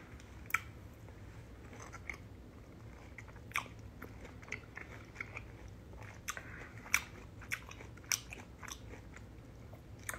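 Someone eats food close to the microphone, with quiet, steady chewing and a series of sharp crunchy bites at irregular intervals, and no talking.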